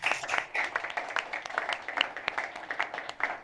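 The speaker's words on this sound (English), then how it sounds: "let's give them a round of applause" Audience applause for game studios, including Red Pine Studios with War Doctor, at a defence tech startup hangout event; a dense, steady round of many clapping hands with scattered sharper claps, moderately loud throughout.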